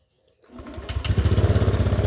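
A Honda Beat scooter with a sputtering, misfiring engine is started after a manual reset. Near silence gives way to an engine catching, then a loud, close, rhythmically pulsing idle that grows steadier.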